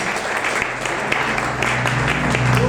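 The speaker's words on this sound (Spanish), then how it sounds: "Denle un aplauso al Rey por el predicado." A church congregation claps steadily for about three seconds, a dense, even wash of applause with no voices standing out.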